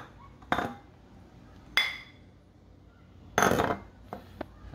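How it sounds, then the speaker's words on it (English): A fork tosses a dry spice mix of dill powder and salt in a mixing bowl for a rib and chicken rub, giving three or four sharp metallic clinks and scrapes separated by quiet gaps. "I usually find it works well to use a fork to toss it."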